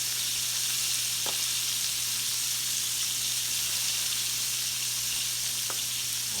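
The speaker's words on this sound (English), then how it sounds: "You feel them right now, just popping like popcorn." Chicken livers fry in hot oil with a steady, loud sizzle and a couple of sharp pops standing out, with no talking.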